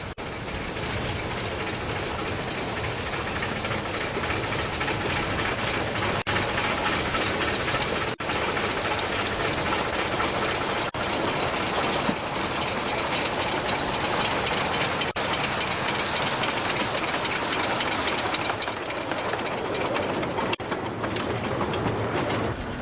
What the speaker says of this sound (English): Steve Smith and myself had a bit of parallel running with Brookhouse Railway No.1 and Sian.